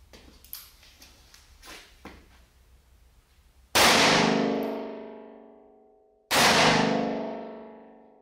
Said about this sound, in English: Now we're going to shoot the 357 Magnum with a 125 grain gold dot hollow point, as well as 158 grain gold dot hollow point.